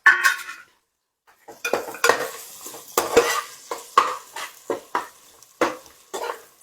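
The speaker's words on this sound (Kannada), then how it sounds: "ಈರುಳ್ಳಿನ ಈ ರೀತಿ ಫ್ರೈ ಮಾಡಬೇಕು." Chopped onions are stirred in a pan and fry softly, giving a series of sharp scraping and tapping strokes at a steady pace, close by, with no one talking.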